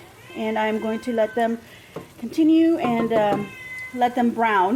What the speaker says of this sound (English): That's my cat, sorry about that.